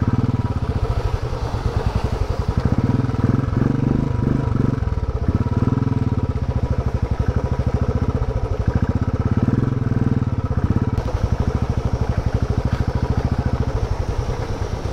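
Motorcycle engines idle in a traffic jam with a close, steady putter and low rumble, the chugging continuing without pause; no voices.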